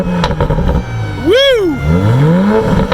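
2020 Toyota Supra with a BMW turbo straight-six revving once, a sharp rising and falling engine sweep close by, surrounded by brief talk.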